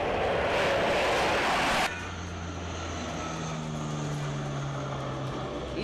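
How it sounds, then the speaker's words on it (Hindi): Mirage and MiG-21 fighter jets fly low over an expressway airstrip, a loud broadband jet roar for about two seconds that abruptly drops to a steadier, fainter engine drone with low tonal hum, no voices. "पूरा आसमान फाइटर जेट्स की आवाज से गूंज उठा। मिराज और मिग 21 एयर स्ट्रिप पर बेहद नीचे से उड़ान भरते दिखाई दिए।"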